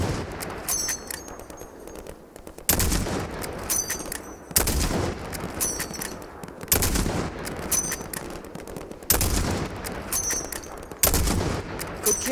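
Heavy gunfire in the Call of Duty Modern Warfare campaign on a sniper highway mission: dense bursts of automatic fire with repeated loud booming impacts roughly every two seconds, filling the whole stretch.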